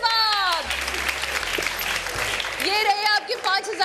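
Studio audience applause at a live Ramadan iftar quiz show, a burst of clapping that swells and fades over a few seconds while a voice talks over it.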